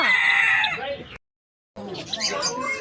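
Chickens clucking and a rooster crowing nearby at an Independence Day show at Lalbagh, Bangalore, with a brief silent gap before more bird calls and background voices resume.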